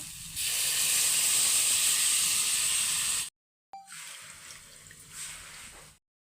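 Chopped banana blossom frying with cumin and green chilli makes a loud, steady hiss that cuts off abruptly, then resumes more softly after a brief pause.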